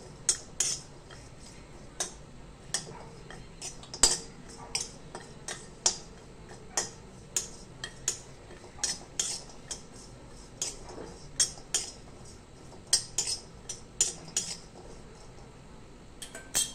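Dry ginger (sunth) being stirred and roasted in a pan for spice masala, a metal spoon scraping and clinking against the pan in irregular taps, some sharper, over a faint background.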